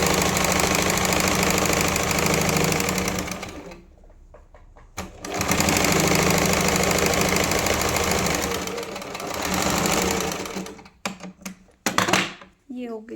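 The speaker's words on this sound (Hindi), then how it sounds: "अब इसी को वापस लेकर आते हुए मशीन के एक पाँव की सिलाई लगाएंगे।" An electric sewing machine stitches along the edge of a blouse in two long, loud, steady runs of rapid mechanical chatter, separated by a brief pause and ending with short stop-start bursts.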